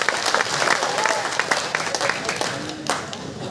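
A theatre audience at a company's opening-season event bursts into applause, dense close clapping that runs steadily throughout and swells slightly near the end.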